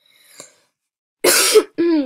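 A woman coughs outdoors: a faint throat sound first, then after a pause a loud, harsh cough and a short voiced follow-up, close to the mic.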